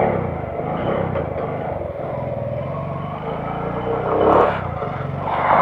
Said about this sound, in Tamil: வண்டி லைட்டாக ஸ்டார்ட் பண்ணுறதுக்கு லைட்டாக கோல்டு ஸ்டார்ட்டாக இருக்குது